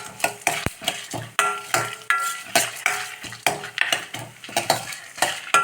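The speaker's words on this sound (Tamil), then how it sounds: "நல்லா செவந்துடுச்சு கொஞ்சம் உளுத்தம் பருப்பு கடலை பருப்பு செவந்தால் போதும்" Urad dal and chana dal fry in oil in a pan while a spoon stirs them in repeated scraping strokes. Gentle sizzling runs underneath, the sound is close, and no one speaks.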